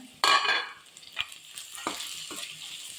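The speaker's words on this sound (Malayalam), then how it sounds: "നന്നായി ഇളക്കി യോജിപ്പിക്കാം വെല്ലവും തേങ്ങയും പിന്നെ പയറും" Sprouted green gram, grated coconut and jaggery stirred in a pan with a spoon, giving soft scraping strokes and a light sizzle, one louder burst of stirring followed by a few scattered scrapes.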